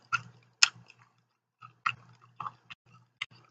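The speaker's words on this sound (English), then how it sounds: "Can y'all hear that crunch?" Close crunchy bites and chewing of DiGiorno thin crust supreme pizza come as a string of sharp, separate crackles with short pauses between them. The crunching is loud and sits alone against a quiet background.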